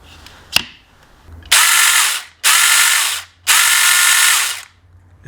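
A Saker SK1804D mini cordless chainsaw with freshly oiled bar, cutting wood, revs in three loud, close bursts of about a second each, separated by short pauses, with no talking.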